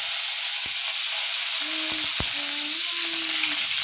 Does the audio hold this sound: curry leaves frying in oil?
yes